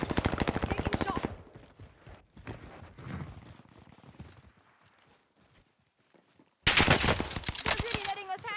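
Call of Duty Warzone Pacific gunfire rattles in rapid bursts at the start and again near the end, loud and close, with quieter movement sounds in between.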